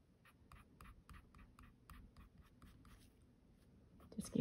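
Colored pencil flicks short strokes across paper to draw fuzzy fur hairs on a hare, a quick run of soft scratchy ticks, close and quiet, without speech.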